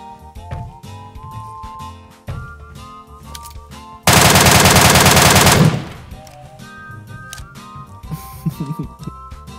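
Automatic gunfire sprays in PUBG Mobile as a loud, sustained burst of rapid shots lasting about a second and a half, set against game music and effects.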